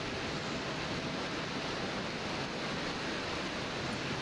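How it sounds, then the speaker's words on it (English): A roaring waterfall from The Talos Principle VR pours out a constant, dense rush of white noise, steady and unbroken without any voices. "Hello, noisy waterfall."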